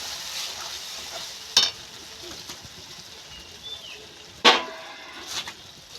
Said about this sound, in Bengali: দিয়ে এইভাবে নেড়ে চেড়ে ভালো করে শুকো শুকো করতে হবে এটাকে